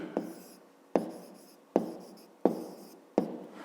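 Pen strokes on paper while writing out a fifth-grade math solution: five separate short scratching strokes at fairly even intervals, close and quiet, with no voice.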